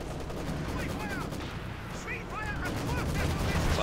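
Wurfrahmen 40 rocket artillery firing in Company of Heroes 2 during a 2v2 battle around Budapest: a dense, continuous wash of gunfire and explosions with some high whistling, holding at steady loudness throughout.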